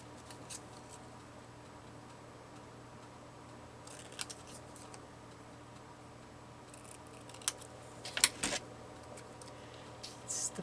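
Scissors snipping through lace and paper labels, a few short scattered cuts over a quiet room hum, close and soft.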